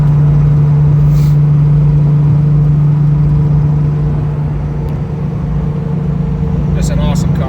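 A 1989 Ford Mustang Saleen coupe cruising on the highway around 80 mph at about 2,300 RPM, its engine a steady low drone with road and wind noise underneath while someone talks over it.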